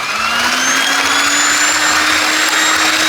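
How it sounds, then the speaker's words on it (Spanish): A loud, steady electric mixer whirs at high speed beating Nutella pancake batter, a continuous bright motor whine with faint rhythmic knocking underneath. "Y ahora este hay que volverlo a batir."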